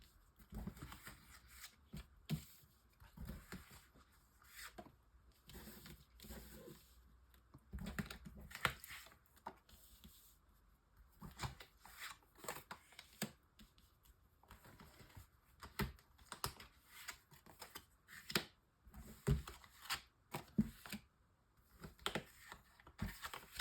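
Tarot cards shuffled for a nine-card draw, a soft continuous patter of riffling and sliding card flicks, close and fairly quiet, with no talking over it.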